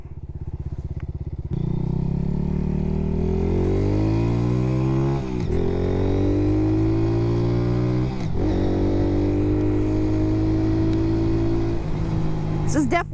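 Lifan KP Mini motorcycle engine cruising steadily in second gear, a loud, close, continuous drone with harmonic tones rising and falling slightly as throttle shifts, plus brief clatter and wind rumble.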